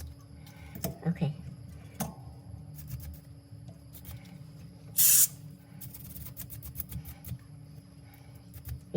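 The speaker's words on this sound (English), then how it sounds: "clean with spray." An aerosol spray hisses in one loud burst of about half a second while a Vivo S1 phone is cleaned, amid quiet bench clicks and handling noises.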